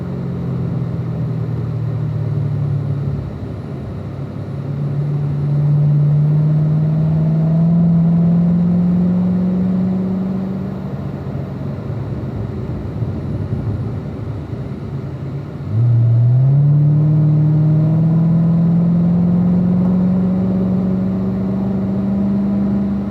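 A race car accelerates out of a corner on a track, its engine note rising twice in long sweeping pulls under a steady rumble, heard from inside the car.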